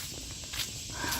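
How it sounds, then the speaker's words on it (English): Soft, steady crunching and rustling of feet walking over dry fallen leaves outdoors, faint and continuous under a constant background hiss. "I can hear the leaves as my feet walk across them."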